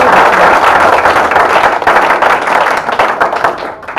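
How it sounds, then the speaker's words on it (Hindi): Audience applause at a Hindi comedy poetry gathering, dense steady clapping filling the hall for about four seconds, loud and continuous before thinning slightly near the end. "एक बार इनके संचालन के लिए बहुत जोरदार तालियां बजा दीजिए"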